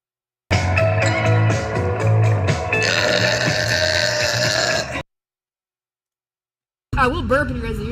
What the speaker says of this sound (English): I will burp in your guys' ears though